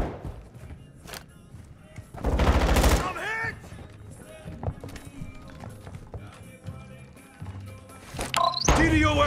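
Gunfire in Call of Duty: Modern Warfare II, with a loud burst of rapid automatic fire, scattered shots and other battle sounds, and voices shouting during the fight.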